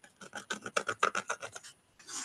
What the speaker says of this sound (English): A little plastic in there will get scraped off.